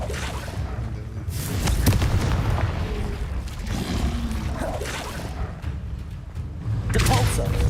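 In Hogwarts Legacy, Confringo fire-blast spells go off as booming explosions with whooshing bursts, several heavy impacts across the stretch, loud and close, under a player's voice.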